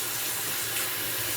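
Cold water runs steadily from a kitchen tap for a short burst, a constant close rushing hiss with no voices.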